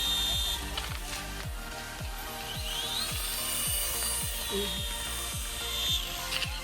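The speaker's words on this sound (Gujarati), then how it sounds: "હેલિકોપ્ટર સ્ટાર્ટ થઈ ગયું છે." A cheap toy remote-control helicopter whirs close by, a steady buzzing rotor and motor whine with rapid repeated clicking ticks running throughout.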